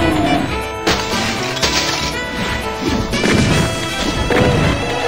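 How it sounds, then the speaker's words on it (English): Glass shattering from gunfire in the video game Doom 2 Auger Zenith, a loud, dense run of repeated crashing smashes and breaking impacts layered over game sound, with no talk. "So yeah, we can shoot glass now."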